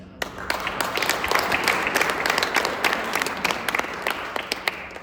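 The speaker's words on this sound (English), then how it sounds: "You guys, we owe you a round of applause for getting this open" Audience applauding ski resort staff at an event celebrating snowmaking infrastructure upgrades, a lively burst of many people clapping with sharp individual claps standing out, sustained throughout.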